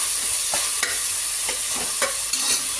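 Tomatoes sautéing in a hot pan for mutton biryani, a steady close sizzle broken by several quick spoon scrapes and stirs spaced about half a second apart.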